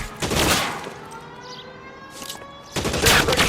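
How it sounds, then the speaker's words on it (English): Gunfire rattles in sustained bursts during a shootout in the video game L.A. Noire, loud and near, fading briefly before another heavy volley, with a faint tonal background beneath. "Suppressing fire!"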